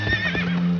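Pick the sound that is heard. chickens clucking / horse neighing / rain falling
horse neighing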